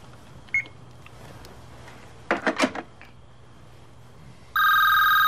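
A telephone rings in a quiet room, a short burst of trilling rings in the middle followed by a loud, sustained electronic ringing tone at the end, with faint soft knocks before and no speech.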